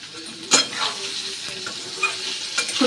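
Small tomatoes and cumin powder sizzle loudly in a hot pan, with a constant frying hiss broken by several sharp scrapes and knocks of a spoon stirring against the metal, close up and without speech.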